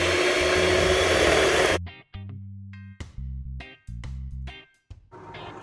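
Electric mixer whizzing dry chocolate cake batter for a birthday cake, running loud for nearly two seconds then cutting to short repeated bursts with pauses between, close and alone.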